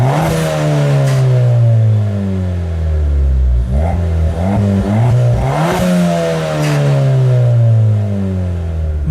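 A Mountune MR265 Ford Fiesta ST, with a turbocharged engine, is revved repeatedly while parked. Each blip climbs loudly and falls away, and the turbo squirts briefly on the drop. Heard up close through an open window.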